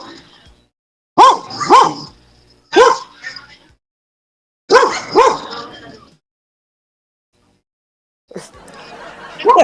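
Loud dog barks close by, coming in short clusters of two or three with silent gaps between, followed by a rougher vocal burst at the end.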